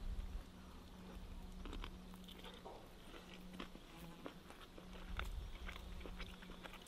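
Egg rolls topped with honey and sesame seeds being bitten and chewed up close, soft crunchy bites and chewing noises repeating steadily over a low background hum, with no talking.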